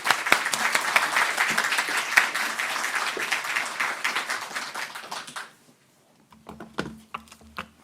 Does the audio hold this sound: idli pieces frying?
no